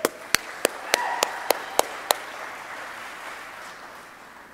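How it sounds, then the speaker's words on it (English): A handful of sharp, loud claps ring out one by one at a steady pace from a single nearby person, about eight in two seconds, followed by faint room noise at an evening church gathering. "let's give a round of applause to the hospitality people."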